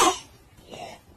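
A voice imitates a child's barking croup cough: one short harsh burst, then a fainter second one, close and alone.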